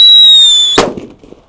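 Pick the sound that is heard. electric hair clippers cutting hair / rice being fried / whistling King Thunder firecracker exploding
whistling King Thunder firecracker exploding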